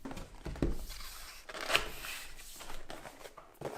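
Unboxing a Logitech G213 keyboard: close, quiet crinkling, tearing and sliding of cardboard and plastic packaging, with scattered sharp rustles and soft thumps and no talking.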